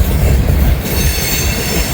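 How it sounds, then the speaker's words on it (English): A Union Pacific boxcar rolls past up close, a loud continuous rumble of wheels on rail with a thin high squeal running through it. "There's a UP boxcar."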